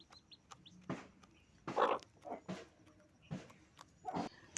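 Roosters in a backyard coop give short, scattered clucks and calls, several separate bursts at a moderate distance, with no talking.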